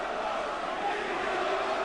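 A big Welsh boxing crowd in the arena at the Naseem Hamed v Tom Johnson bout makes a constant murmuring roar in the background, faint and even throughout.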